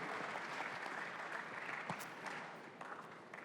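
Steady applause from an audience fills the whole stretch, dense clapping at an even level with no voices over it.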